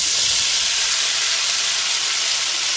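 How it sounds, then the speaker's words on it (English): A steady, bright hissing sizzle from mixed vegetables and potatoes frying in a hot pan, loud and close, holding constant without any talking. "Here's the sizzle, guys."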